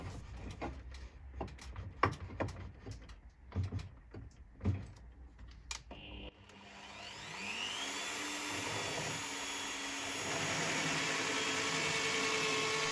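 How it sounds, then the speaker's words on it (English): Power drill boring out a broken bolt in a gearbox cover, starting after several sharp clicks and knocks, then a steady rising whine that grows louder and holds as the bit bites into the metal. "drill out a large portion of bolt, leaving just a spring of the thread around"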